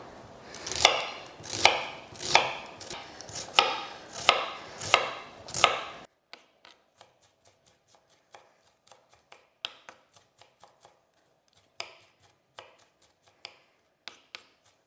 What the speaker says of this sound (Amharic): ግማሹን ሽንኩርት ድቅቅ አድርገን እንደዚህ ሳይሆን ድቅቅ አድርገን እንከትፈዋለን